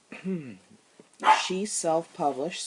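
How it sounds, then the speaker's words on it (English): A dog barks and yips a few times close by, mixed in with someone talking over it indoors. "Sorry about my dog."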